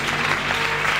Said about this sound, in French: give the Lord a hand, a clap of praise?